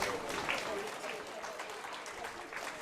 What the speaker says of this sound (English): Go ahead and give them a round of applause as they exit the ring.